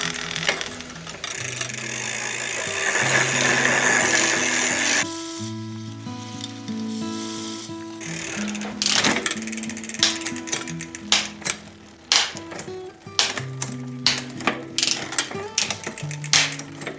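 The drivetrain of a Trek Navigator 200 bicycle, with a non-indexing front derailleur and shifter, whirs and buzzes steadily as it is pedaled. The chain then shifts, followed by a run of close mechanical clicks and ratcheting ticks.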